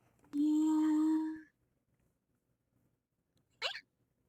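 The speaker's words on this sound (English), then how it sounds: "Oh, that was a hiccup." A single sharp hiccup bursts out briefly, following an earlier drawn-out vocal sound, then quiet.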